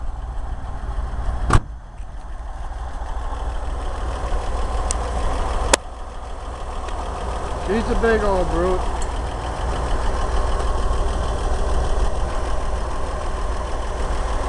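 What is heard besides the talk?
old International truck engine idling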